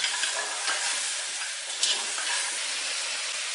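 Pig trotters with peanuts, salt and soy sauce get stir-fried in a wok for a Hakka pork trotter stew, giving a steady close sizzle with soft stirring scrapes throughout and no voices.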